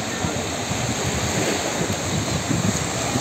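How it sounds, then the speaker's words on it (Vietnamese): Sea waves wash and break along the beach at Piombino, a town on the Italian coast, in a loud, steady surf roar with heavy wind buffeting the microphone throughout. "Hôm nay biển ở đây nhiều sóng quá"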